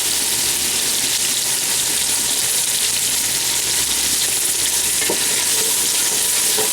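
Onion sizzles and fries in a pan for Peruvian cooking, a loud, steady, close hiss of crackling oil throughout, with a faint clink partway through and no voices.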